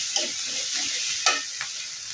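Ground spice paste fries in hot oil with a steady bright sizzle, broken by a few soft scraping stirs, close and moderately quiet with no voices.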